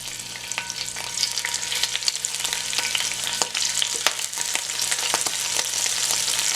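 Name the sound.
shrimp frying in hot oil in a pan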